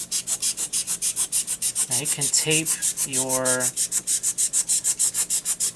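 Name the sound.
knife sawing through insulation foam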